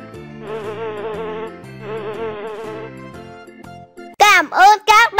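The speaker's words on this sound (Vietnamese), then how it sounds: "Đây là con ong." Two drawn-out bee buzzes sound over light background music, followed by a loud, bright voice near the end.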